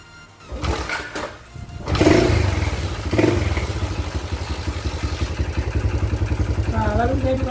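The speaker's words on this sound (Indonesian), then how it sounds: "saya akan hidupkan mesinnya" A motorcycle engine cranks and catches after a few seconds, then settles into a steady, rapid putt-putt idle heard close, with people talking briefly over it.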